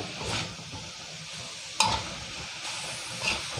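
Pork belly and pre-blanched long beans stir-fried with curry paste in a pan over high heat, a continuous close sizzle punctuated by brisk spatula scrapes and one sharp metallic clank partway through.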